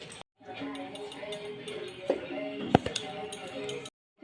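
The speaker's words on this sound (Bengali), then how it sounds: "এবারে আমি তুলে এটাকে চা ছাঁকনিতে ছেঁকে নেব।" A metal tea strainer clinks against a bowl while soaked semolina is strained, with steady light scraping and a few sharp close taps, including one louder knock near the end.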